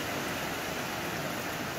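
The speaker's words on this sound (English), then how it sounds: "it's not a pretend rain" Steady outdoor rain falling on a cold winter's day, a dense even hiss with no breaks, moderately loud and alone without any voices.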